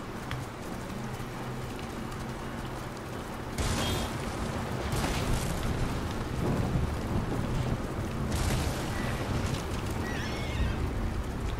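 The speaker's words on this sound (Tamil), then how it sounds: "இடியும் கிடியுமா போட்டு பயங்கரமா பயம் கொடுத்துருங்க." A rainy thunderstorm in Ghost of Tsushima: steady rain hiss, then loud thunder crashes that come in heavy rolling bursts.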